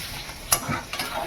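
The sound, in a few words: gime greens frying in a pan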